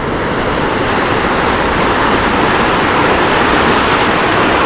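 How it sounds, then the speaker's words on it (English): High sea waves surge below a cliff on the Sicilian coast, a loud, unbroken roar of surf with wind buffeting the microphone, steady and close throughout. "But the waves are a little high today."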